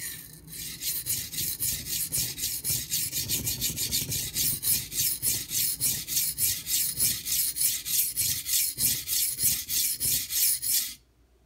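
A three-inch Santoku kitchen knife is worked over a Nubatama Ume whetstone in steady back-and-forth rasping strokes, close and even, about two per second with no talking.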